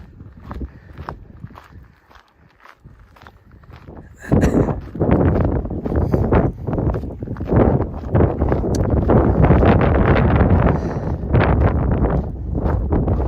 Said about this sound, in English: The wind is a little bit cool.